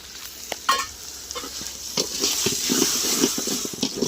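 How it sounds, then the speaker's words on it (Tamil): Onions and tomatoes sautéing in hot oil for a country chicken curry, a steady sizzle with scraping stirs and occasional sharp pops and clicks of the spoon against the pan, close and moderately loud. "ஒரு நிமிஷத்துக்கு நல்லா வந்து வதக்கிடும்"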